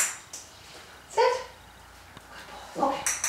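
A puppy gives a few short whimpers and yips, close and sharp, with quiet gaps between them and faint handling noise.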